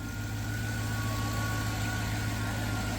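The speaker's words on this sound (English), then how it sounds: "Truck is running." A GMC truck engine with a lifter valve fault idles steadily, a low continuous rumble with a faint even hum, heard alone at moderate distance.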